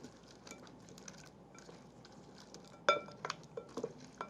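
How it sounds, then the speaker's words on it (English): Chicken wings tossed in melted herb butter in a bowl: quiet soft stirring, then a cluster of sharp close clinks and clatters toward the end. "So let's just give this a good mix."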